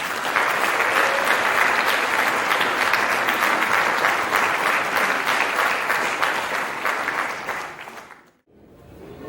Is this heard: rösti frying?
no